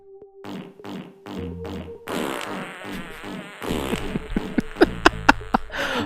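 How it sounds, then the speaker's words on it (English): Cartoonish fart sound effects from the Pungeon Master dungeon game, a series of short blurts that start spaced and rhythmic, then blend into a loud jumble with game music and sharp thwacking hits. "Farts are funny as hell"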